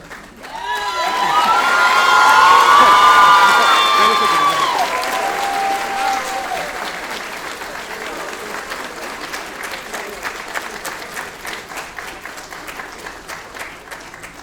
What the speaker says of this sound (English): let's give this amazing team a round of applause